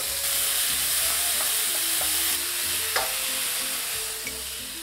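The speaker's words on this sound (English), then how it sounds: "I love that sizzle" Oil sizzles loudly and steadily in a pan as food is stirred, with scattered clinks and scrapes of the utensil against the pan over the constant frying hiss, close up.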